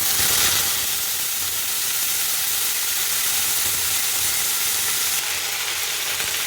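Fresh mint leaves frying in a little hot oil for mint tomato chutney, a loud steady sizzle and hiss close by that holds evenly throughout.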